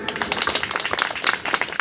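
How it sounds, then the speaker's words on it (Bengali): Audience clapping hands to celebrate a birthday, a brief burst of dense, steady applause from a small crowd, close and lively, with voices mixed in. "চলুন আমি এবং আমরা সবাই মিলে এই জন্য একটা হাততালি দিই।"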